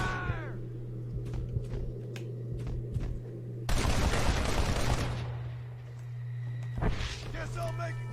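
Shootout in the Western game Red Dead Redemption: spaced sharp gunshots, then a loud burst of heavy firing, then a few more cracks, with voices over a steady low hum.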